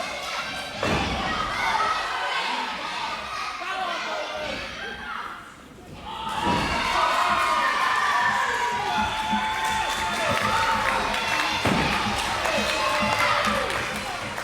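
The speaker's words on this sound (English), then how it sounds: "it's optimistic for the crowd to shout finish him" A live wrestling crowd at a title match chants and cheers loudly under the commentator's voice, with heavy thuds from bodies hitting the ring and a brief lull in the noise midway.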